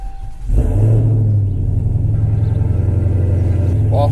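A Dodge Hellcat engine cranks and fires up, catching with a loud burst and then settling into a deep, steady rumbling idle close by.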